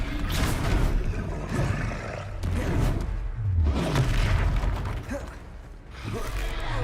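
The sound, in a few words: Descendo and Levioso spell effects in Hogwarts Legacy video game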